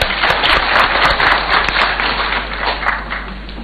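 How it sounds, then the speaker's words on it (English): Audience at a Form One selection announcement claps for the Cabinet Secretary, a loud, continuous round of applause lasting several seconds with no talking. "Can we clap for CS for those?"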